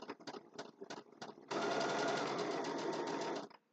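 A sewing machine stitches a Christmas table runner block, with a few short bursts of stitching first, then one steady, loud, continuous run lasting about two seconds before it stops.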